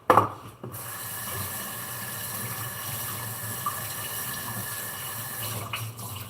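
Tap water runs steadily into a SodaStream bottle at a kitchen sink, a continuous close rushing hiss after a brief clatter at the start.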